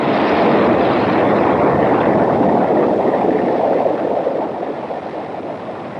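Five F-1 rocket engines of a Saturn V stage roar together in a static test firing, a loud, dense, steady rumble that holds for several seconds and then eases off slightly near the end.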